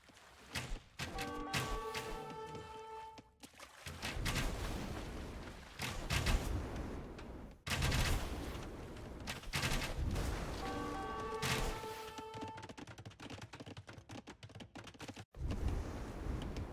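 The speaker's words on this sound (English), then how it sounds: "You can see how many volleys it takes for a small group of galleys to take out one Castle Age fire ship." Galleys firing volleys at a Castle Age fire ship in an Age of Empires 4v4 naval battle, with repeated bursts of projectile impacts and booming shots in clustered waves, some musical chimes layered in between.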